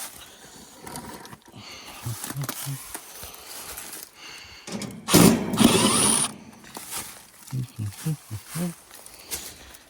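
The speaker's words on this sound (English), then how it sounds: "start removing the screws." Screws are backed out of an air-conditioning unit's panel before a soft start kit is fitted. Close ratcheting, clicking mechanical turns are heard alongside a man's speech.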